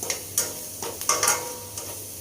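Salt, chili and turmeric are roasted in a pan while a spoon stirs them, giving a few scattered scraping strokes over a faint, low sizzle. It is close and fairly quiet, with no voices.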